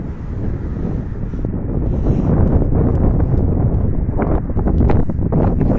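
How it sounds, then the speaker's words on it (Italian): Gusty wind roars and buffets the microphone in an industrial zone in the aftermath of a tornado, a loud, rumbling, continuous blast that strengthens partway through and stays heavy to the end. "Il vento sì c'è ancora, ma non è più forte come prima."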